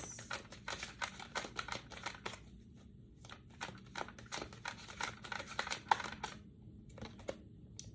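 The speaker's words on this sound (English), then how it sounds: "I'm shuffling for Aquarius." Tarot cards riffle and slap in rapid, uneven bursts, a close, papery shuffling that stops briefly and resumes.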